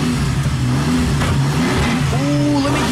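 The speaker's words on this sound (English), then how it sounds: "I say go ahead and cold rev it" A 2019 Ford Raptor engine cold-revving after being rebuilt from a wreck, rising and falling in a couple of loud close revs with turbo whistle and a slight pop, while people talk over it.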